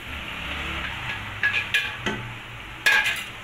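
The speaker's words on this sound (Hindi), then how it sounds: "इसको आराम से हमने मिक्स करना है, ऐसे ऐसे मिक्स करेंगे।" A spoon scrapes and knocks against a pan as boiled rice is stirred into fried eggs, giving a few distinct clinks and scrapes over a soft background hiss.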